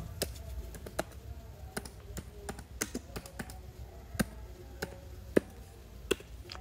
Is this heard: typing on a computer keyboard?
yes